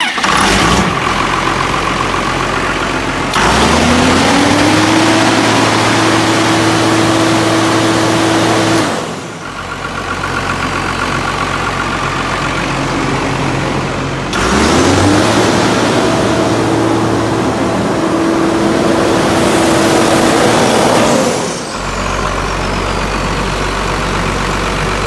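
An Ingersoll Rand DD130 double drum roller's diesel engine runs loud and close, repeatedly revving up to a sustained higher pitch and then dropping back to idle in two long cycles.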